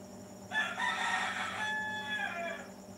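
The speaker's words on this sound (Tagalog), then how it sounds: "Gumaganyan talaga yung manok. Timer na yan." A rooster crows once, a long loud call lasting a couple of seconds, clear against a quiet background.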